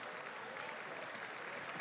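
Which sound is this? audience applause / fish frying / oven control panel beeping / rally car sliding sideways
audience applause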